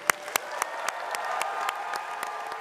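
A graduation ceremony audience for the Faculty of Science class of 2026 breaks into steady applause, with dense clapping and sharp individual claps standing out near the front, and no talk over it.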